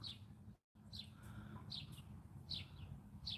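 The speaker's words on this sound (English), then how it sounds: "That's her coo. That's when she talks to me. She makes that noise." A hen coos softly in a few short, repeated calls spaced about a second apart, heard alone over a steady low background hum.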